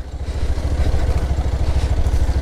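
Motorbike slipping down a slippery, steep downhill track, its engine chugging in a rapid, steady rhythm with clattering, loud and close throughout.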